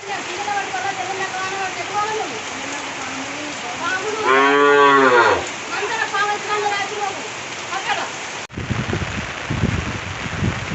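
Cattle in a village near Chintalabori, a single long, loud moo rising over steady rain, with voices talking nearby before and after.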